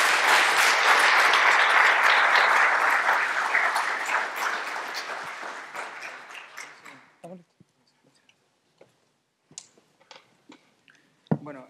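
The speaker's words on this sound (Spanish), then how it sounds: "Un aplauso, por favor." Audience applause at the close of a seminar presentation, brisk clapping that starts full and gradually thins out over several seconds, leaving a few scattered claps and small clicks in near silence.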